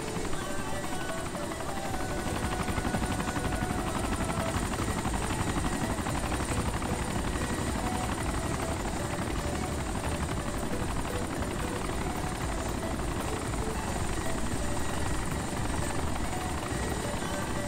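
Helicopter in the video game DayZ Origins flying steadily, a loud continuous rotor drone with dense engine noise that holds at near-constant level throughout, with faint talk mixed underneath.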